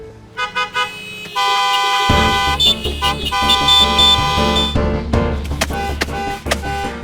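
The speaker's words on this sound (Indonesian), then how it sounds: "siapa sih klakson kenceng-kenceng gitu?" Loud, insistent car horns honk over one another in a jam, blaring in overlapping bursts with traffic noise underneath.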